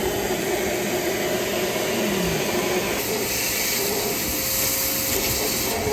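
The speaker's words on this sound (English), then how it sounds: "So now I'm gonna just vacuum the little bit of glass that's left" A vacuum cleaner runs continuously while sucking up leftover broken glass inside a Mazdaspeed 3 under repair, giving a loud, steady roaring hiss with faint shifting tones throughout.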